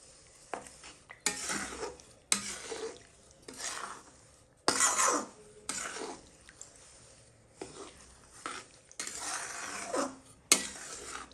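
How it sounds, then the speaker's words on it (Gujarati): A spoon scrapes and clanks against a pan while jaggery melts for gundar pak, a Gujarati winter sweet; irregular loud metallic strokes repeat every second or so over a quiet background. "ગોળ પૂરેપૂરો ઓગળી ના જાય ત્યાં સુધી તેને આ રીતે મિક્સ કરતા રહેવાનું છે."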